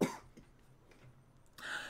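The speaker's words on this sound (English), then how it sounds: "Oh my god, here comes the cough." A single sharp cough bursts out near the mic at the start, followed by quiet room tone, then a rougher throat-clearing noise near the end during a France-map gun-and-vehicle game session.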